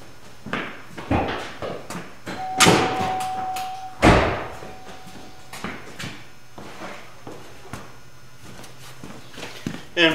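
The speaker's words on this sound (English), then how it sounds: "So I will release the emergency brake." A car's emergency brake is released during brake drum work, giving a few loud close mechanical clunks and ratcheting knocks amid scattered handling noises, with a brief tonal squeak.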